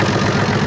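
An FNM 180 truck's engine idles after sitting parked for three years, a brief, loud, steady low rumble heard close up.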